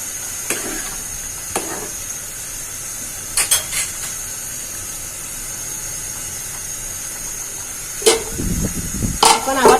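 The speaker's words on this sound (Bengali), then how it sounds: "এখন এর উপর কাঁচা আম দিয়ে দিচ্ছি" Raw mango pieces go into simmering masoor lentil dal over a steady steamy hiss, with a few soft taps and a louder clatter and splash near the end.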